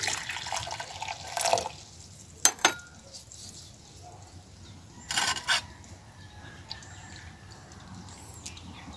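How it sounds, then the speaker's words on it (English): Hot water is poured into a glass beaker to wash recovered gold from hard drive connector pins, short splashy bursts of pouring with a sharp glass clink between them, close and otherwise quiet. "Add another hot water."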